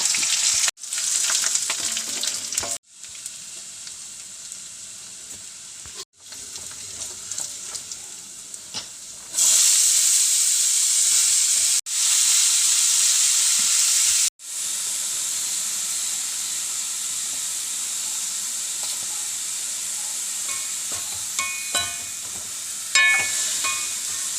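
Onion and curry leaves frying in hot oil in a pan while making a beans stir-fry: a loud, continuous close-up sizzle and hiss, interrupted by brief cuts and shifts in intensity, with occasional stirring clatter.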